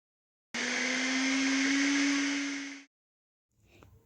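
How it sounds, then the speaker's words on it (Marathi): An electric mixer grinder whirs as it mashes a bowl of mung dal in its jar, one steady loud run of about two seconds that starts and stops abruptly, followed by a faint clink. "एका मिक्सरच्या जारमध्ये 1 वाटी मुगाची डाळ मॅश करून घेऊया"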